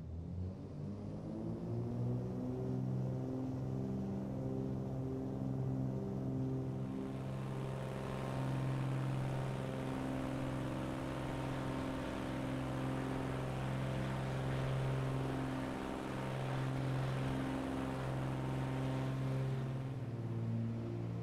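Propeller aircraft taking off in Microsoft Flight Simulator: a loud, steady engine drone with strong harmonic hum that swells as power builds, continuous and alone.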